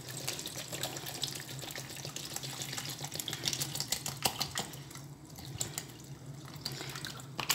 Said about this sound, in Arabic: غادي ندير ليه الماء المعدني